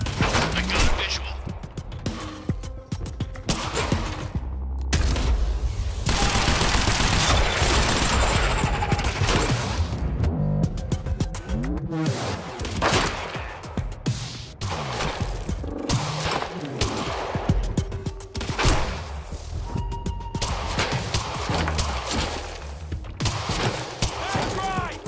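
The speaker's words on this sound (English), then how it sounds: "Suppressing fire!" Sustained suppressing gunfire in the video game Quantum Break, with loud bursts of automatic and rapid shots rattling over a chaotic firefight, shouted voices mixed in.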